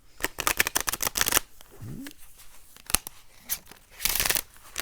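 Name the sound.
shuffling tarot cards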